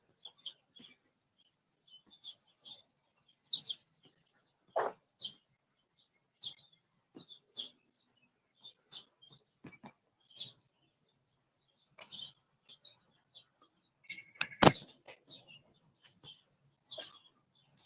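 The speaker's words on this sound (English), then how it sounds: "Y'all hear them birds out here?" Birds chirp in short, sparse bursts outdoors near a tree, with scattered calls spread across a quiet background and one sharper, louder note near the end.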